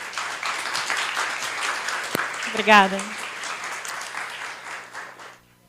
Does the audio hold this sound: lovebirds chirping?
no